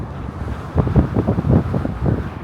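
Wind gusts across an open terrace strung with wire. Low, rumbling buffets hit the microphone in uneven bursts that swell and fade over a steady background rush.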